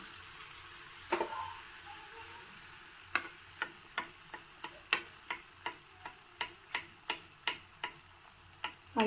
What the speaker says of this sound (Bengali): একটা একটা করে ভাজিয়েই করে যাচ্ছি এখন থেকে